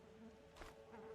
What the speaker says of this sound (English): I like how you can hear the fly buzzing around.